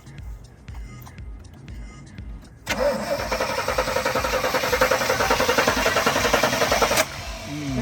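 A 34-year-old Chevrolet engine, boosted from a jump box, cranks in a quick stuttering rhythm and then catches, settling into a loud, steady running chatter, with a voice briefly heard nearby.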